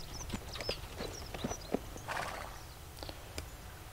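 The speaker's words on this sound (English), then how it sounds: "Gonna have to reverse my horse." Hooves clip-clop in an irregular slow rhythm as a horse backs up near a fence ramp in a video game, light close hoofbeats over a quiet ambient background.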